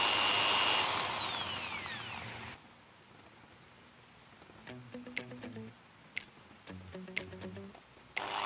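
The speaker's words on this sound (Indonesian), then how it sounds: "ujung sebelah kiri, ujung belah kanan kita bor semua supaya nempel dan kuat ya" A power drill whines loudly while boring mounting holes for a mini K-Vision satellite dish, its pitch sliding as it winds down. Light knocks and clatter follow at close range.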